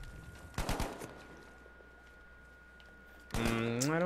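Gunfire from a low-recoil gun in Battlefield 5 on PS4, a short burst of rapid shots early on, then a quiet stretch before another loud burst of shots and whistling effects near the end.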